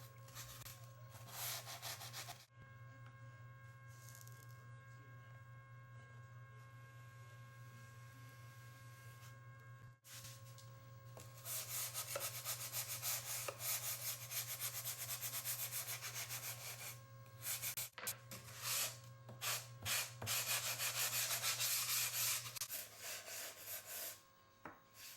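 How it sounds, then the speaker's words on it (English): Model airplane floats for a Parkzone T-28 being sanded with a block or sponge sander, quiet rubbing strokes in steady stretches over a constant low electrical hum. "sand the floats using a block or sponge sander"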